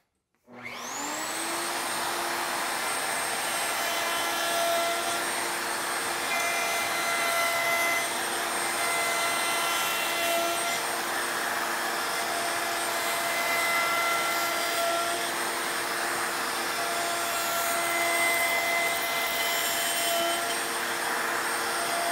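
A router runs at a steady high-pitched whine while cutting a rabbet into a wooden picture frame, spinning up quickly, then holding a loud, continuous tone with no talking.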